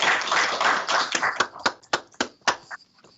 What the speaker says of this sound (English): How about we give you a round of applause?